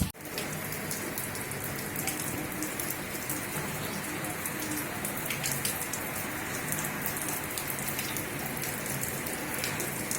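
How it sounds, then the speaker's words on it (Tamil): Light early-morning rain falls steadily, a soft, even patter with scattered drops ticking close by, continuous and unbroken throughout, with no voices. "பட் மழை லைட்டாக தான் பெய்யுது."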